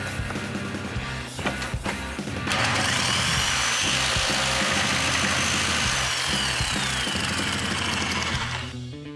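A jigsaw cuts through the sheet-metal sunroof panel of a Datsun 280z: a loud, harsh, buzzing rasp that runs steadily from a few seconds in and fades near the end, with rapid low chattering underneath.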